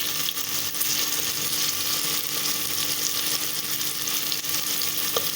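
Potatoes and peas frying in a pan, a dense continuous sizzle with soft crackling, steady and close without any talking.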